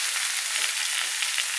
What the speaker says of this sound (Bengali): মাঝারি টু হাই ফ্লেমে করে দিয়ে আমি বাঁধাকপিগুলো নেড়ে নিচ্ছি।